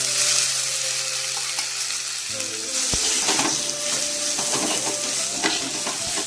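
Cooked raw papaya dropped into browned frying onions gives a steady loud sizzle, with a thud of the pieces landing partway through and stirring scrapes that follow, close up.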